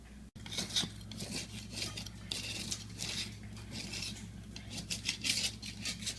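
Old layered paint is scraped off a surface by hand, producing close, rhythmic rasping strokes that repeat steadily with brief pauses between them.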